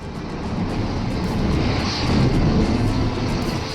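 F-16 fighter jet flying, a steady broadband engine roar that swells slightly mid-way, continuous and fairly loud with no talk.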